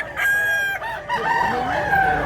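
At a Mantalungon, Cebu poultry sale, a Hatch Hennie rooster about a year old gives a loud, near crow, followed by a second wavering call from birds nearby, with faint voices in the background.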